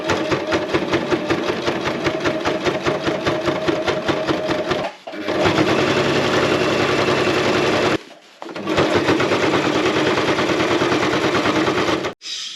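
A sewing machine with mechanical issues runs in fast rhythmic bursts while sewing hems, its needle clattering steadily, stopping briefly twice before starting again.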